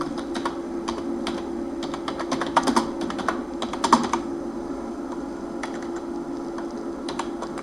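A candidate's name being typed on a computer keyboard while filling in an online form, with quick, close clusters of key clicks broken by short pauses over a faint steady hum.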